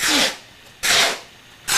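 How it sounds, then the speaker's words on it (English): Three long, breathy scraping swishes, each lasting about a third of a second, like feet dragging across a floor, close and fairly loud with short pauses between. "Almost like somebody dragging their feet."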